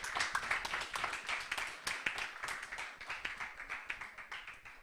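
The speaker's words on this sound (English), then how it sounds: "So let's welcome her with a round of applause." A round of clapping for a speaker being welcomed at a community forum and radio outreach event in Ghana, a dense patter of many hands close by, steady for the whole stretch with no talk over it.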